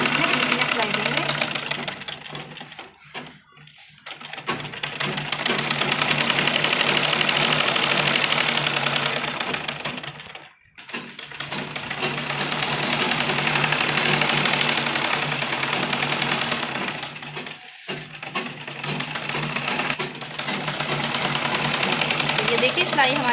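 Electric sewing machine stitching a stretched elastic down the middle of palazzo pants, running in long steady bursts with a few brief pauses between runs.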